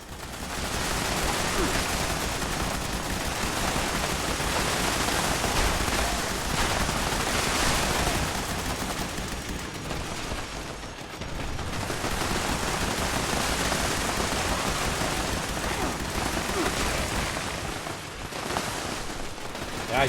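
Automatic turrets pour out dense, continuous gunfire during a team event in the video game Fallout 76, a loud sustained barrage that dips briefly around the midpoint before resuming.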